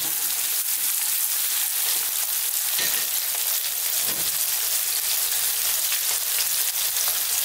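Garlic and ginger paste fries hard in a pan over high heat, giving a loud, continuous sizzle and crackle with a couple of soft stirring knocks, and no voices.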